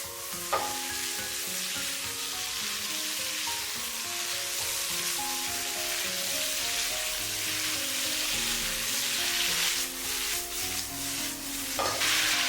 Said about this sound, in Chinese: 快速的翻炒均匀， 把花菜炒入味，把所有的食材翻炒均匀